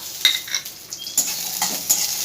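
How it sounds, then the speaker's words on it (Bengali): Seven or eight large garlic cloves are stirred in a pan over a low flame, with a metal utensil clinking and scraping in irregular taps under a faint sizzle. "একটু ভালো করে নাড়াচাড়া করে নেব।"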